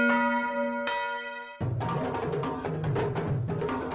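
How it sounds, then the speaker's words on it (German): A large peace bell rings out from a peace monument during a valley festival in Wildschönau, Tyrol, in Austria, sounding a long resonant strike that decays before fresh, denser clanging with rich ringing overtones takes over. "wir hören sie schon, die Friedensglocke, die was jetzt läutet vom Friedensmonument"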